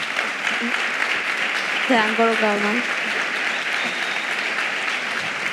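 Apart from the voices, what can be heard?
audience applause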